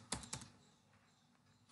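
Sparse keystrokes on a computer keyboard while entering coordinate values in STAAD.Pro software: two quick close clicks near the start and one more at the end, faint and isolated in a quiet room.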